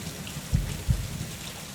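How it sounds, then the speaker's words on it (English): Heavy rain pours steadily in a video game, a dense wash of drops with two low rumbling thumps like distant thunder, no voices. "Upon stepping outside, I met with an intense rainstorm."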